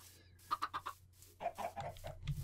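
Minecraft chickens cluck in a quick run of four short calls, then a looser second burst of clucks, fairly close against a low steady background hum.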